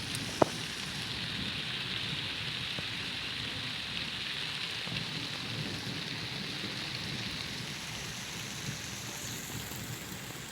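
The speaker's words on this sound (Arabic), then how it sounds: "كطيح الشتا وريحه ديال التراب رائعه" Rain falls in the desert as a soft, steady wash of drops on the ground and surfaces, continuous and even throughout, with one brief sharp tick near the start.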